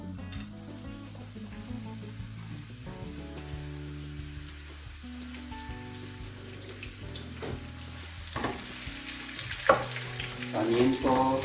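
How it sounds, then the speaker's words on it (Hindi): Thinly sliced onions fry gently in a pan for a courgette curry, a soft steady sizzle under a tonal background, with stirring clatter and louder crackling building toward the end. "अनियन को हम हल्का सा पकाएंगे ताकि ये सॉफ्ट हो जाए"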